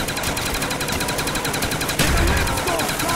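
Rapid automatic gunfire from a weapon in Call of Duty Black Ops 1 zombies mode rattles continuously and loudly for a few seconds, with a heavier blast near the end.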